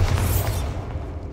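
A Bombarda blasting spell explodes in the Hogwarts Legacy video game as one loud, close booming burst that rolls off into a fading rumble.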